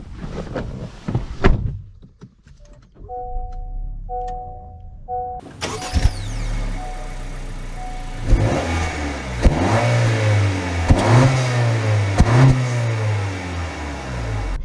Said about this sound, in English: So, setting off here in the Honda Civic Touring.